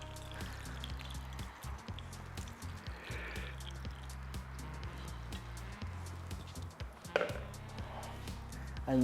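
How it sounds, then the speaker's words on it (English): Yorkshire pudding batter poured into piping-hot oil in baking tins for a roast chicken dinner: a continuous close sizzle and crackle with small ticks and pops spread throughout. "You just want to pour your Yorkie mix bang on in the centre."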